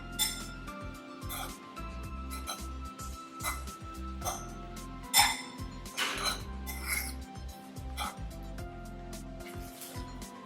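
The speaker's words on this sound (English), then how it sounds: "Mix it up properly, toss it, and see that everything mixes in the correct portion with each other." Salad being tossed and mixed in a bowl, with light, intermittent clinks and taps of utensils against the dish over a faint background.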